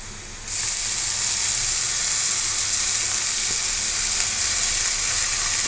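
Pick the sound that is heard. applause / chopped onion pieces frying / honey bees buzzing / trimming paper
chopped onion pieces frying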